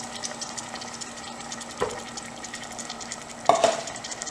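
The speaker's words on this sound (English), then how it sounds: "We're gonna add our tomatoes now." Tomatoes go into a pan of browned sausage and are stirred, giving a soft continuous sizzle with occasional scraping and a couple of clunks of a utensil against the pan.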